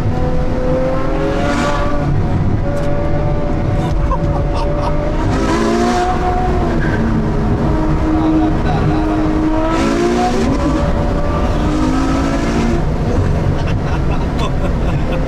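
Ferrari F12 Berlinetta V12 with 740 hp revving hard toward its 9000 rpm limit on a winding road, loud and continuous with rising and falling engine pitch throughout, a voice speaking briefly over it.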